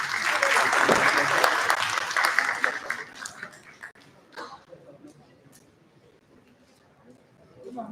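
Audience at a chemical engineering conference lecture bursting into loud applause that fades over a few seconds into scattered claps and quiet room murmur, then swells slightly again at the end.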